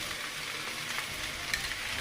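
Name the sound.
chowmein frying with egg and tomato sauce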